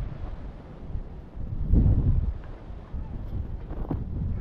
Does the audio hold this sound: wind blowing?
yes